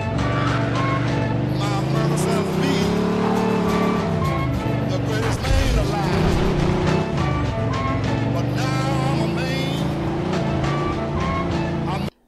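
A convertible car drives in the video game Mafia 2, its engine droning steadily and rising and falling in pitch, with a scrape midway, all heard beneath continuous game music and sound effects.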